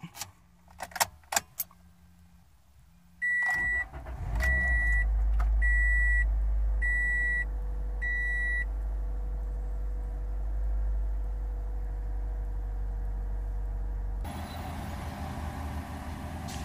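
A Toyota Corolla starts up after a few key jangles and a run of chime beeps: the starter cranks briefly, then the engine catches and settles into a steady, close idle with no talking.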